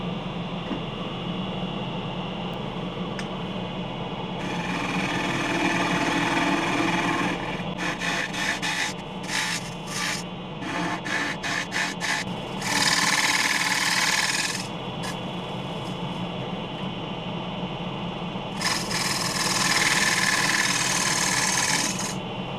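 A wooden lid spins on a wood lathe while a scraper cuts into it. The cutting gives a continuous rasping whir over a low motor hum, swelling into harsher scraping bursts as the tool bites.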